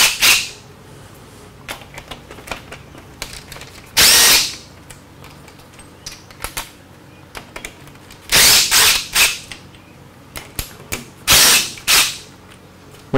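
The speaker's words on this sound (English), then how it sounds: "if you're going to take something apart, you got to get that wrench all the way down in there" Metal wrench clicking and ratcheting in short irregular bursts while an object is taken apart, with several louder mechanical rattles standing out against a quiet background.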